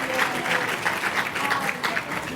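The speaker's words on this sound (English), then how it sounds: "can you give them a round of applause for a great panel this afternoon" A conference audience applauds a panel discussion at the end of an afternoon session, with dense steady clapping throughout, close and fairly loud, and voices faintly mixed in.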